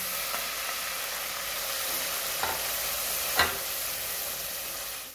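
Onions sizzling and frying in a pan for daal mash as garlic and ginger paste is added, a steady close hiss throughout with a few brief stirring clatters and no talk.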